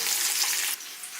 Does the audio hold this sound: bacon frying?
yes